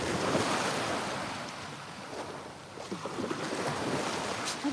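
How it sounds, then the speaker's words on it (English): Ocean waves wash onto a beach in a loud, steady surf roar mixed with wind buffeting the microphone, swelling and easing slightly midway with no voices. "I get to come down to this beach 5 minutes from home and listen to this water."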